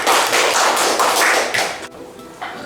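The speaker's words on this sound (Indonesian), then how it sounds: "Tepuk tangannya masih kurang semangat. Tepuk tangan untuk kalian semua." Students in a classroom give a burst of rhythmic group clapping that stops abruptly, followed by one last stray clap.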